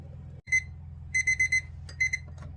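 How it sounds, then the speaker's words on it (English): Kitchen timer alarm going off in a home kitchen, sharp high electronic beeps in quick clustered bursts over a low background hum. "Okay, our timer's gone off."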